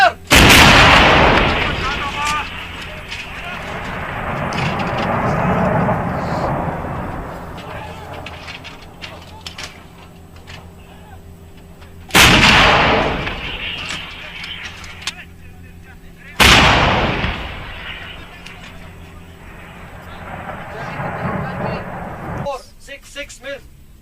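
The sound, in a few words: artillery guns firing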